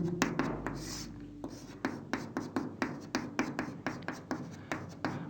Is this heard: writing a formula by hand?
yes